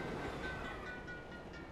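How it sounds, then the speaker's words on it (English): A moving train on a train level of the video game Assassin's Creed Chronicles: Russia gives a steady, broad rumble with faint metallic rattle. It is continuous and fairly quiet, with no talk. "So, this is a train level."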